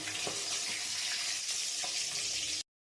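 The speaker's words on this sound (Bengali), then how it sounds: "আমি এরকম করে সব মাছগুলো ভেজে নেব।" Pabda fish fry in hot oil with a steady, bright sizzle and faint crackles, close up and unbroken, before it cuts off abruptly.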